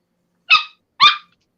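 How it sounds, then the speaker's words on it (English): Two sharp dog barks in quick succession, about half a second apart, loud and close against silence, heard during a home watch party. "Sorry, that's my dogs."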